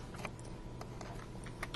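Faint, rapid clicking of typing on a computer keyboard, scattered keystrokes over a steady background hum.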